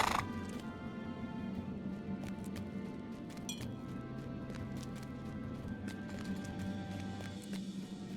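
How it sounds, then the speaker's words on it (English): Horse hooves clip-clop in the LOTRO video game as a rider dismounts, a few steady hoof taps with faint clinks of tack over a continuous game music and ambient bed. "And once again, before we get up to Dwalin, we will be polite and get off our horse."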